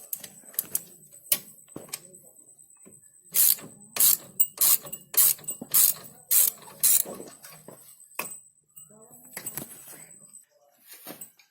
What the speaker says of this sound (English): with this 13 mm round you need to open the bolt